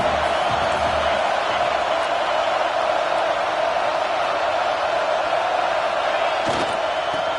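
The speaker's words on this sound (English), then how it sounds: "This crowd, full throat, splitting the eardrums and letting them know it's going to be a long day." Stadium crowd noise in the NCAA 26 college football video game, a steady, dense roar that holds at one level throughout with no distinct shouts or breaks.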